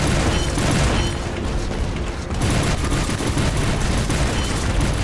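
Dense, continuous gunfire from the video game War Robots, with rapid bursts and booming shots, loud and sustained throughout, with no pause or talking.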